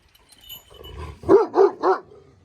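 A dog with a leader-like temperament gives three loud, close barks in quick succession, following a stretch of quieter indoor background.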